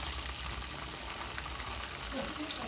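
Chicken 65 pieces fry in hot oil, a steady dense sizzle crackling continuously without pause throughout.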